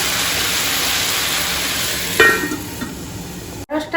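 Vegetables for a home-cooked vegetable curry are sautéed in a pan, giving a steady, close sizzling hiss with a few light clatters and a brief break near the end.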